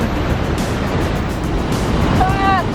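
Steady broadband roar of Yellowstone's Lower Falls at its brink, constant and close, with a person's voice rising briefly near the end.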